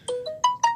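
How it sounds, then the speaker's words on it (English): A phone plays a YouTube notification chime: four quick rising electronic tones in under a second, clear and close, with no voices. "there's another hateful notification from YouTube"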